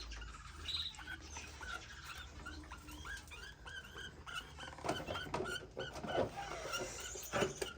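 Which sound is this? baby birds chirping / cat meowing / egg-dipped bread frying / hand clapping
baby birds chirping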